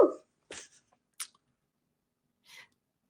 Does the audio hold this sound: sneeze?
yes